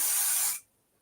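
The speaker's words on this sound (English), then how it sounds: "I'm going to spray this." An aerosol can of spray adhesive hisses onto fabric in one short, loud, close burst lasting about half a second, then cuts off into near silence.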